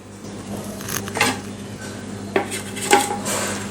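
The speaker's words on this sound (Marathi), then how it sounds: "आपण हा एका प्लेटमध्ये काढून घेऊया" A foxtail millet dosa is lifted off the pan onto a plate with a few distinct metallic clinks and scrapes of utensils, close, over a low steady kitchen hum.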